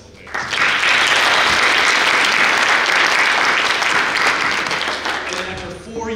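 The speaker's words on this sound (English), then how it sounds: "I just want to give a round of applause to Saide and all the work that they've been doing in the last several days." An audience at a conference closing session breaks into sustained applause, a dense wash of clapping that starts abruptly, holds steady for several seconds, then tapers as a voice returns.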